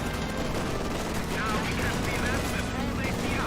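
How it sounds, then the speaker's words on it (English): Dense battlefield gunfire in Company of Heroes 2 as a rifle grenade is launched, a steady wash of rattling shots and blasts running loud throughout, with a commentator's voice mixed in. "Rock grenade fired, does avoid it."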